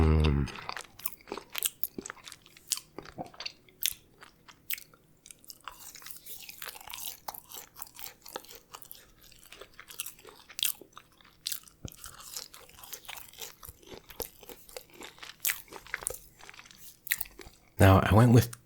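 Crunchy crinkle-cut fries being bitten and chewed close up, with repeated sharp crunches scattered throughout and a louder burst of crunching near the end.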